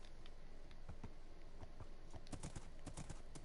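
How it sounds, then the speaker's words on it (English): Horse hooves clip-clopping in Minecraft, a steady run of light clopping steps that grows busier and louder toward the end, fairly faint overall. "I think this is my cousin's horse."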